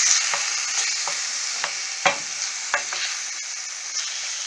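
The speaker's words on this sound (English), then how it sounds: "So just keep stirring that around until it's all nice and browned." Chicken pieces and onions browning in a hot pan for a chicken casserole, with a steady close sizzle and several distinct scraping stirs of the utensil against the pan spaced through it, no talking.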